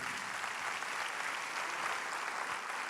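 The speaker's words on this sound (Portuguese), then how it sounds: "Vamos aplaudir ao Senhor pela palavra de Deus" Congregation applauding in a church after a sermon reading, a steady wash of many hands clapping at moderate level throughout, with no pauses.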